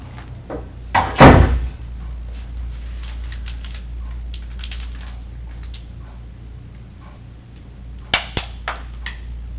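A door in an interrogation room bangs shut with a single loud thud early on, followed by quieter shuffling and rustling, then a few sharp knocks or clatters near the end.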